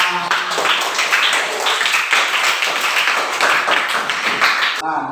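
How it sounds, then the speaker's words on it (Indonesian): A class claps together in a steady, dense patter of many hands, loud and close, lasting several seconds before stopping abruptly. "Tepuk tangan."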